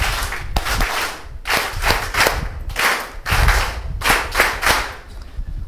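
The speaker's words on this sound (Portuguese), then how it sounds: "Uma salva de palmas bem forte para o nosso Deus." A crowd at a live event in Mozambique claps loudly in several bursts of rhythmic, unison clapping, pausing briefly between waves, with no talking over it.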